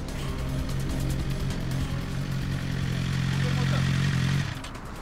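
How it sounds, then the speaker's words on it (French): A motorcycle on a motorway in Puy-de-Dôme, stopped by gendarmes after speeding, its engine running at a steady low idle drone that cuts off abruptly near the end, with roadside ambience around it. "sur l'autoroute, une moto vient d'être flashée à une vitesse folle"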